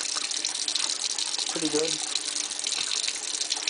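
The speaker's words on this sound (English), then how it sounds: "let me shut off the water" Water runs steadily from a kitchen tap in a bright, continuous hiss, close and fairly loud, while a person briefly speaks over it.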